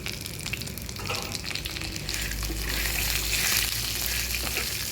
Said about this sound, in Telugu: బాగా ఈ వేడికి ఆ కరివేపాకు వేగిపోతుంది